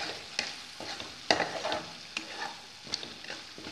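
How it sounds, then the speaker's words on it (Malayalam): Masala sautéing in hot oil for a Kerala curry, with crackling sizzle and repeated scrapes and stirs of a spoon against the pan, no voices. "നല്ല മൂത്ത മണം വരുന്നത് വരെ നമുക്കിത് വഴറ്റിയെടുക്കാം."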